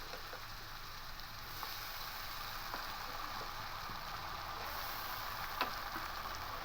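A ginger, garlic and green chili paste sizzles in hot oil in a pan, a soft, steady frying hiss with occasional small pops and ticks.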